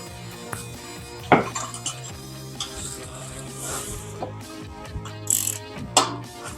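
A socket wrench ratcheting on the spark plugs of a 1979 Lincoln Mark V, metallic clicks and clinks of tools in short bursts with pauses between, close and moderately loud.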